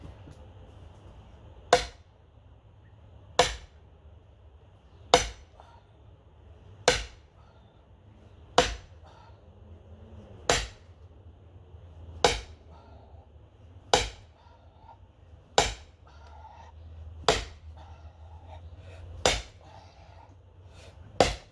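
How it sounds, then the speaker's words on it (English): A hammer strikes a wedge into wood about a dozen times in a slow, even rhythm while splitting wood by hand, each blow a sharp, loud crack with quiet pauses between. "it will probably do the same thing when I strike it with this bigger, hammer"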